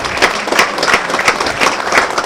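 A crowd applauds a bowled spare at a Special Olympics bowling event, loud dense clapping close by that carries on steadily throughout.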